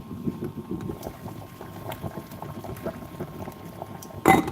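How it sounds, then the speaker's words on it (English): Bubbling boiling water with chicken in a pot, a steady low churning simmer with a brief louder clatter at the end. "now the chicken is boiling quite a lot"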